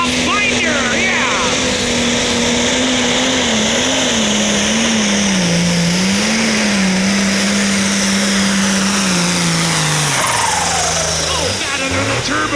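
A light pro stock pulling tractor with a turbocharged engine roars loudly and steadily down the track at a tractor pull at Dragway 42, its pitch wavering then dropping near the end as it slows, with an announcer talking over it.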